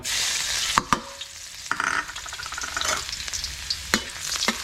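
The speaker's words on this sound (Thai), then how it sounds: "ใส่น้ำมันลงไป คลึงกระทะให้น้ำมันกระจายทั่วกระทะ เสร็จแล้ว ใส่กระเทียม" Loud, continuous sizzling of garlic frying in hot oil in a pan, with a few sharp clinks and scrapes of a utensil against the pan.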